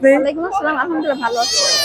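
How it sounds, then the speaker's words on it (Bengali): A Persian cat at the Mirpur-1 cat market in Dhaka gives a loud, close, wavering meow that rises and falls over about two seconds, with market bustle behind it. "খুব সুন্দর একটা পার্সেন্ট বিড়াল নিয়ে আসছে"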